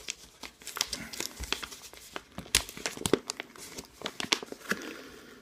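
A Red Horse chewing tobacco pouch with a Ziploc closure being opened, a close run of sharp plastic crinkles, rustles and tearing snaps in irregular bursts.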